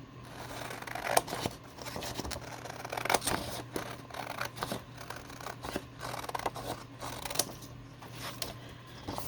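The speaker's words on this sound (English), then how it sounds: "I'm going to trim these because I don't need these white edges" Scissors snip repeatedly through paper to cut away white edges from book pages, a series of crisp, close cuts with short pauses between them, quiet and alone with no talking.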